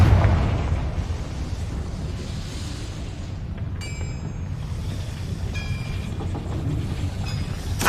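Confringo spell cast in Hogwarts Legacy, a loud explosive burst at the start followed by a sustained rumbling roar, with brief bright tonal glints and a second flare near the end.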